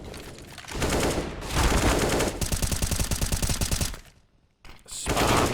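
Rapid automatic gunfire sprayed down range in a Counter-Strike match on the Anubis map, loud bursts of fast repeating shots with a brief pause before firing resumes.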